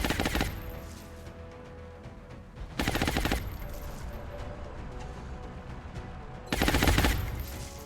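Bursts of automatic gunfire in XCOM: Enemy Unknown, three loud clusters of rapid shots separated by quieter stretches of lingering background noise.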